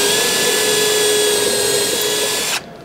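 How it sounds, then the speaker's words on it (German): A power drill whirs at a loud, steady pitch for a few seconds while drilling a 3 mm hole through a wooden board, then abruptly cuts off as the motor winds down. "und bohrt einmal 3 mm durch"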